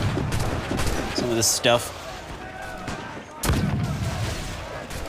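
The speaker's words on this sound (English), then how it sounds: "I'm not terribly good with these swivel cannons." Swivel cannons fire in the pirate video game Assassin's Creed Black Flag, a few booming shots with broadband bursts over continuous game noise while someone talks.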